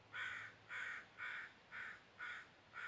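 Crows caw in a forest, six harsh calls spaced at an even, steady rhythm, moderately distant and clear with no talking.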